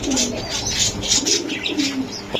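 Racer and Giribaz pigeons coo in low, soft, repeated calls over a busy rustling background, the cooing rising and falling across the whole stretch.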